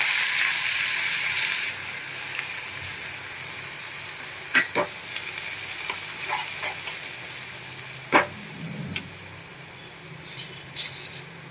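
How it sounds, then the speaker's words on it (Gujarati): Steady sizzling and crackling of cumin and green onion in hot oil, loud at first then settling, with occasional sharp pops and spatters throughout. "તો આપણું તેલ એકદમ સરસ ગરમ થઈ ગયું છે તો આપણે એમાં જીરું એડ કરશું"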